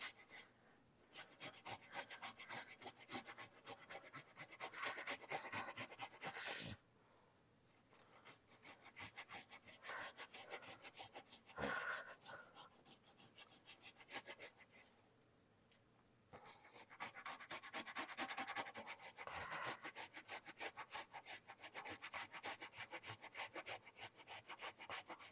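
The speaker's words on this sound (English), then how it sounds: "We're going to grind up our ginger." Fresh ginger is ground on a grater in a home kitchen, a fast rasping scrape repeated in long bursts with two short pauses, close and fairly quiet with no talk.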